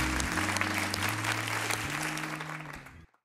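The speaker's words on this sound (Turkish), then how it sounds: "Olsun ama alkışlıyoruz beyefendi." Studio audience applause on a Turkish comedy talk show, dense clapping over a low musical bed, holding steady before fading quickly and cutting to silence near the end.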